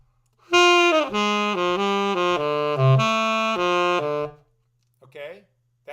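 A blues scale played exactly as written, with no articulation or accents, sounds as a run of clean, evenly held single notes from a wind instrument. It steps along at a steady pace and ends with a brief pause and a short sound.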